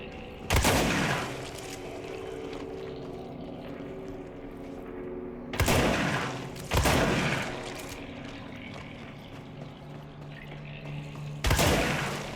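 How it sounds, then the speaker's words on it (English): Several heavy shotgun blasts in the video game Control, each a sharp loud crack with a brief decaying tail, spaced irregularly over a steady rumbling game ambience, the last two close together. "Let's get the shotgun ready."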